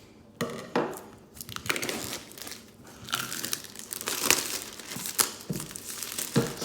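An Oculus Go box and its packaging crinkle and rustle as it is opened, with irregular close crackling, tearing and handling bursts throughout and no talk.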